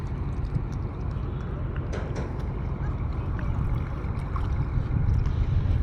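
A boat on the Kirtankhola river near Barishal, heard as a steady low rumble with wind and water noise running continuously and fairly close throughout.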